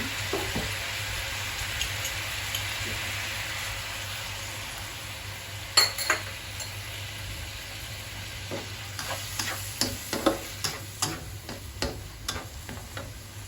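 Eggplant stir-fried in a pan for spicy drunken-style stir-fry, a steady soft sizzle with scattered clinks and scrapes of a utensil that grow busier toward the end, close and fairly quiet, no talking.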